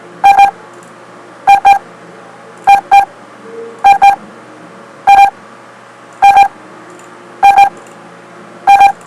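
A bright electronic control panel alarm for a fuel oil system beeps in quick double pulses, repeating about every second and a quarter at a steady rhythm, loud and close with no talking.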